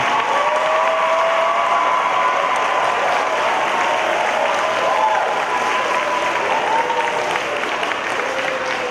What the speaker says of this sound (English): Could we give a big, big, big round of applause to Mrs.